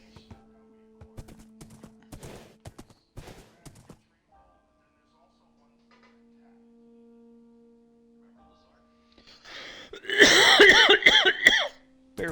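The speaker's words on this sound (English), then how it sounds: "If I'm coughing too much" A person coughing on a live stream, a harsh burst of several close, loud coughs near the end after long quiet stretches with faint tones and a few soft knocks.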